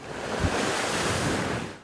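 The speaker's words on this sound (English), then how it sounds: "The crashing waves in Victoria are a warning of what's building, getting stronger and heading this way." Storm-driven ocean waves crash at the shore in Victoria, a continuous broad roar of surf mixed with wind rumble, loud and steady throughout.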